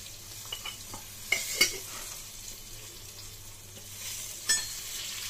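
Garlic pickle with nigella seeds fries in a pan with a steady low sizzle, broken by a few clear stirring scrapes and clinks, close and fairly quiet.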